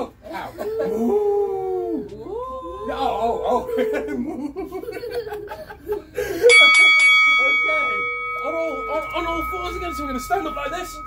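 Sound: bell signalling the start of an exercise round

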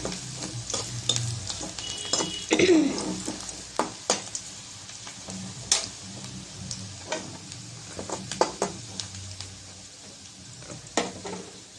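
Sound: onion and green chili frying in a pan

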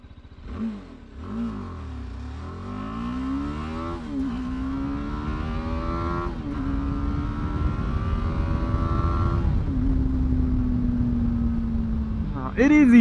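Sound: motorcycle braking with ABS then accelerating 0 to 60

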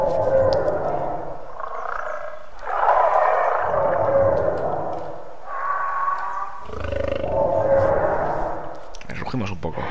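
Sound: carnivorous dinosaur roaring in the video game The Isle

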